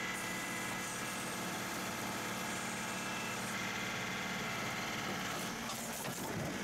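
A John Deere 2038R compact tractor runs its backhoe while pulling apart a wall, a steady loud engine drone with hydraulic strain and some clanking scrapes near the end, with no talking.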